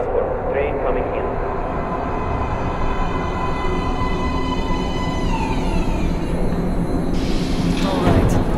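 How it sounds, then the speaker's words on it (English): Subway train pulling into an underground platform in the video game Metro: Last Light, a steady loud rumble and rail roar with rising metallic whine that swells near the end, continuous throughout. "Please step away from the edge of the platform. Train coming in."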